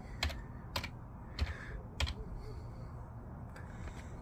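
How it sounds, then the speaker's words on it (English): A handful of quick keystrokes clack on a computer keyboard nearby, spaced in short bursts with quiet pauses between them. "I want to type in search."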